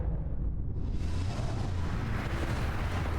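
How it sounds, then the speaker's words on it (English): A missile launched into the air in the space game Starfield lets out a loud, sustained roaring rush of exhaust, dense and rumbling throughout, brightening after a moment and with no voices over it. "Just shoot a missile into the air."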